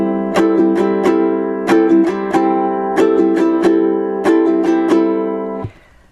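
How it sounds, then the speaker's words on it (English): Ukulele strumming O Holy Night with a triplet strum, quick three-stroke bursts of bright chords in a rolling rhythm, close and loud, ending with a muted stop and no talking. "And we also use the triplet strum that sounds like this."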